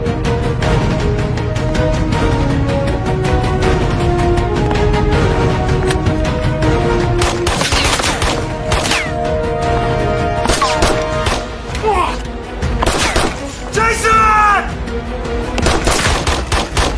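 Rapid, loud gunshots in a Filipino TV drama scene, firing in dense bursts that continue through most of the stretch, with sharp overlapping cracks and a few heavier impacts near the end.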